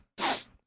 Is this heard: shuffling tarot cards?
no